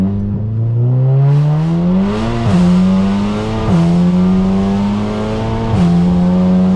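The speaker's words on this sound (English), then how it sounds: "let's put it into race mode, manual, downshift a couple of times." Stage 3 VW Golf engine in race mode with traction off, revving loudly and close by, with several sharp downshift blips lifting the pitch in steps before it settles into a steady drone.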